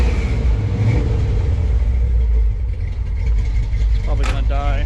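An old truck engine cranks, catches and runs with a loud, steady low rumble throughout, faintly revving near the end, with a voice talking over it.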